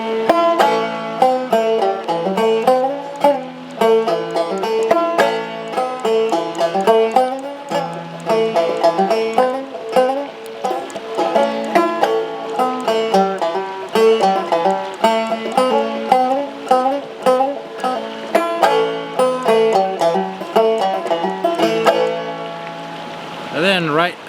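A banjo plays the old-time tune Keep My Skillet Good n Greasy outdoors by a river, with steady, bright picked notes and a pull-off on the second string, close and clear.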